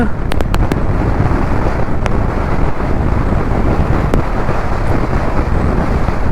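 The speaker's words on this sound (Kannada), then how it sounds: "ಗಾಳಿ ಮಾತ್ರ ಸಿಕ್ಕಾಪಟ್ಟೆ ಐತಿ" Strong wind roars and buffets the microphone continuously, a loud, rumbling rush with a few sharp clicks early on.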